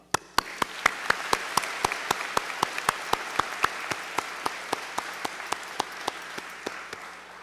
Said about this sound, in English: I'd like to start by extending our applause to our seniors.